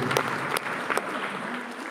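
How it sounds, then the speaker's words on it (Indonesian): A church congregation gives a dense round of applause, steady and close throughout the short stretch. "Kita berikan tepuk tangan yang punya Tuhan Yesus"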